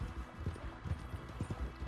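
Horse hooves clip-clop at a walking pace in Red Dead Redemption 2, a quiet, uneven series of soft thuds heard close by, with no one talking.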